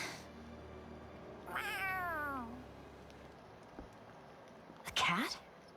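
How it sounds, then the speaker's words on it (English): A cat in the video game Tales of Arise meows once with a falling, drawn-out cry over a quiet game ambience, followed a few seconds later by a short, sharper second meow. "A cat? Where'd it come from?"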